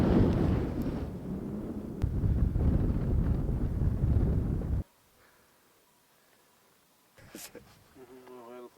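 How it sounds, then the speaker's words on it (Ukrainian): Strong wind on Rainbow Mountain buffets the microphone with loud, rumbling gusts for several seconds, then cuts to near quiet before a brief voice and faint rustle. "Дуже багато літає пилу, дуже сильний вітер."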